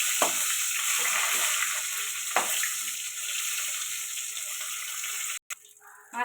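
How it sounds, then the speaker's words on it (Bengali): Fish frying in hot oil in a pan for a potato fish curry, a continuous close sizzle with a couple of sharp crackles, cutting off briefly near the end, with no talking. "মাছটা উল্টে দেবো, উল্টে দিয়ে আমি ভেজে নেবো লাল লাল করে।"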